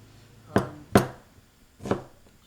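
A knife chops through an onion on a board for a restaurant-style chicken pathia, three sharp separate cuts, close and clear, with a pause between each.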